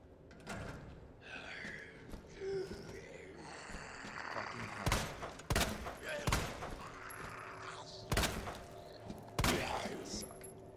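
Gunfire in the Resident Evil 2 video game: several sharp, loud shots spaced irregularly through the second half, over a dense game soundscape with music and ambient effects.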